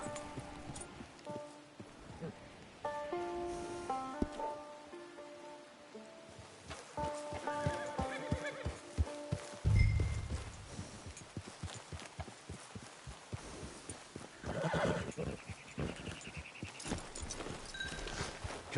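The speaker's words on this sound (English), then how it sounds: "Get your horse." A horse in the Red Dead Redemption 2 online game clip-clops across the ground, rapid hoofbeats running through most of the stretch, with a brief snort or neigh partway through and a soft rain-like patter behind it.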